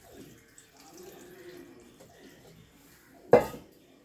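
Quiet kitchen clatter leads to a short, sharp splash of water into a pot of jackfruit seed curry with curry leaves and green chillies near the end.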